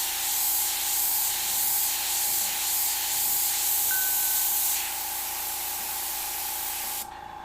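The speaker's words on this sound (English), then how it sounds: "I'm going to bring out another airbrush here. Bring out another Eclipse." An Eclipse airbrush sprays paint in one steady, close hiss that runs for several seconds, then drops to a quieter airflow near the end.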